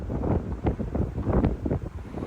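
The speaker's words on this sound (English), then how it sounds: "It's a windy one today." Gusty wind buffets a narrowboat moored out at a marina, rumbling in uneven bursts against the microphone with low, roaring surges and brief lulls.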